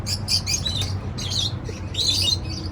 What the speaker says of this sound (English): Now this is a bird area you have there.